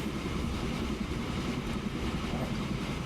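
A train rolls along rails in the Transport Fever game, a steady dense rumble with faint clickety-clack and no talk.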